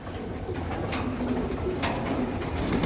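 A racing pigeon, a hen bird, coos softly a few times against a steady background hum, with no one speaking.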